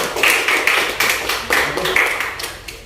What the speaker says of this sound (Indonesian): Ya, cepat, silakan, tepuk tangan.